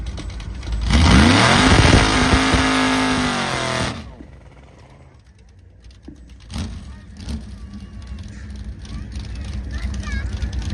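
A 1964 Chevy launches down an airport strip at a charity drag race, its engine roaring loud and close as it revs upward for several seconds, then fading into distant engine rumble and crowd noise.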